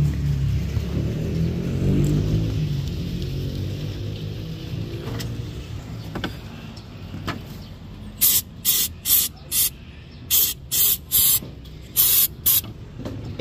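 Short bursts of aerosol cleaner sprayed onto the MAP sensor of a Toyota Innova D4D diesel engine, about ten sharp hisses in quick rhythm following a steady low engine rumble.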